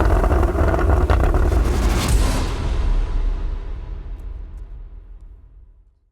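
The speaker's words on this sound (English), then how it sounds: "I've recently had the Porsche Sports Exhaust replaced on my 981 Boxster GTS" A Porsche 981 Boxster GTS, its naturally aspirated flat-six breathing through the Porsche Sports Exhaust, roars loudly with heavy wind rush, then the engine note fades steadily as the car drives off into the distance.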